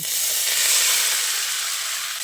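Marinated drumstick flowers go into hot oil with black cumin seeds, raising a loud, steady close-up sizzle and hiss that holds evenly throughout with no talking.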